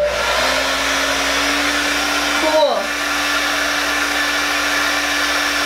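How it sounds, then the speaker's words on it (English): A hair dryer whirs steadily and loudly, with a brief dip in the motor's hum partway through before it resumes. "As I shot it with the blow dryer"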